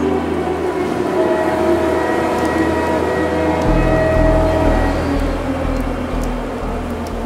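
Train pulling into a small rural station, a loud sustained rumble with a long horn-like tone, the engine note deepening midway, set within a spoken audio horror story.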